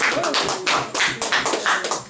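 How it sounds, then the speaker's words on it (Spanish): A small crowd claps for the mariachi group Nuevo Imperio, a brief, close burst of quick, dense applause with no voices. "Un aplauso para el grupo Nuevo Imperio"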